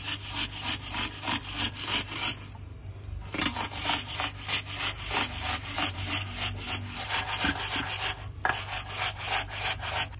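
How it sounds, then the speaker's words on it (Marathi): Cucumber flesh is grated by hand on a grater in steady, rhythmic rasping strokes, close and loud, with a couple of brief pauses and no talking. "आता ही काकडी किसून घ्यायची, म्हणजे याची साल जी आहे ती घ्यायची नाही, फक्त मधला जो गर आहे तो किसून घ्यायचा।"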